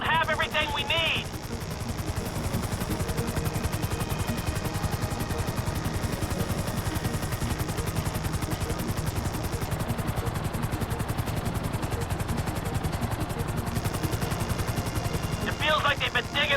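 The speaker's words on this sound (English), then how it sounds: "Just hold the chopper here." A helicopter hovering in GTA 5, steady rapid rotor chop and engine drone holding constant and loud throughout, with voices talking over it.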